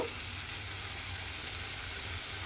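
Flattened spicy masoor dal pithas fry in a pan with a soft, steady sizzle and hiss, fairly quiet and even, with a small pop near the end.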